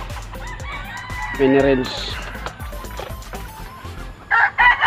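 Chickens cluck and squawk close by, with a crow-like call near the end, under a voice speaking briefly.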